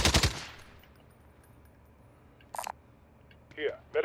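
A short burst of rapid gunfire opens in a video game, loud and close, then fades into quiet background with a few brief scattered sounds and a voice near the end.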